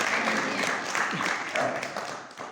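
A church congregation claps steadily through a New Year sermon, a dense continuous patter of many hands with a voice faintly mixed in.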